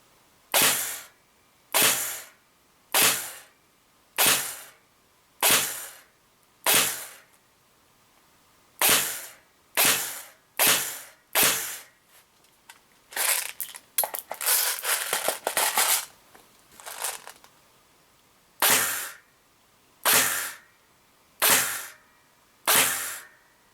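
A Classic Army DT4 double-barrel airsoft M4 fires through a chronograph: about fourteen sharp, evenly spaced snapping shots in two runs, with a short burst of mechanical rattling between them.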